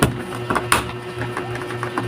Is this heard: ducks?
no